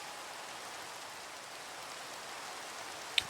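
Steady rain falls in the Minecraft modpack All The Mods 6, a soft, even hiss of drops, with a single brief click near the end.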